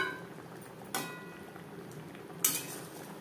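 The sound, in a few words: mixing fried bele fish into mustard gravy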